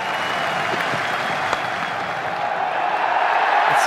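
Steady applause rolls from a cricket stadium crowd at an Indian match after a dot ball, dense and even throughout, with no clear voices above it.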